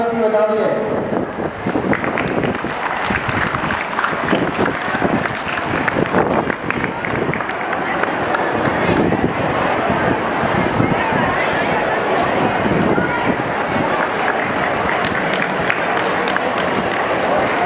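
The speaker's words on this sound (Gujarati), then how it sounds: "જોરદાર તાળીઓથી આપણે વધાવીએ" An audience claps warmly to welcome honourees at a cultural programme, a dense and sustained wash of applause that runs nearly unbroken through the whole stretch, with crowd murmur mixed in.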